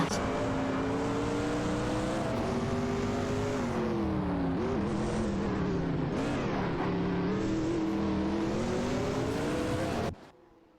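A Ferrari F40 Competizione and Porsche 961 LM race in a video game, engines droning loud and continuous with rising and falling revs as they battle, the roar cutting off abruptly near the end.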